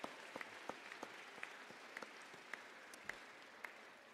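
Scattered applause from an audience at a closing ceremony, quiet and distant, with a few sharper individual claps standing out over a soft continuous patter.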